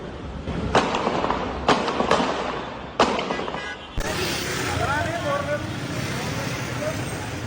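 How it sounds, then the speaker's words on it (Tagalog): Several sharp gunshot cracks from a police shootout ring out at uneven intervals, echoing off buildings in Bonifacio Global City, Taguig, over a steady wash of city traffic noise. "Umalingaw-ngaw ang mga putok ng baril sa video na ito."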